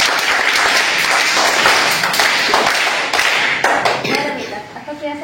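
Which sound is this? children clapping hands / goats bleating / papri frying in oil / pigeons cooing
children clapping hands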